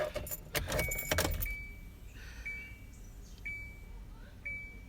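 Keys jangle briefly, then a car sits with its ignition on, giving a steady run of clear electronic chimes that repeat at even intervals over a low idle hum.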